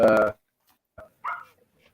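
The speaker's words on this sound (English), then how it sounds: "She's a giant 3 to 4 month old puppy" A giant 3 to 4 month old puppy recovering from leg surgery gives one loud close bark, then short softer whimpering yips follow in a quiet room.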